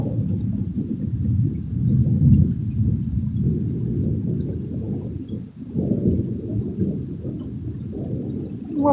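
A thunderstorm rolls on without pause, deep continuous rumbling that swells and eases, heard alone without voices.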